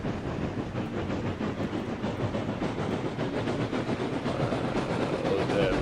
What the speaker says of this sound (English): you can just faintly hear the train